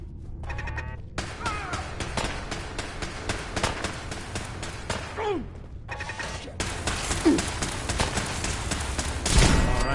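Turrets in Fallout 4 rattle out dense bursts of automatic fire at a settlement, loud and sustained with brief pauses between volleys, mixed with clattering impacts and game effects.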